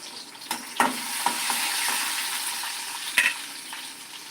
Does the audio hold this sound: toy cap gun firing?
no